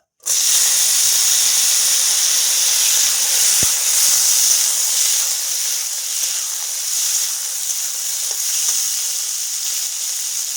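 Potatoes are dropped into hot oil tempered with bay leaf, dried red chili and whole cumin, setting off a loud, continuous close-up sizzle and hiss that holds steady throughout.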